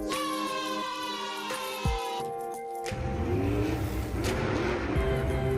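Following a brief tune, the Thor monster truck's engine roars loudly and close, revving steadily with rising and falling whines for the final few seconds.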